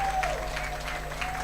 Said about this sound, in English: Where is a hand clap kindly as she comes on stage?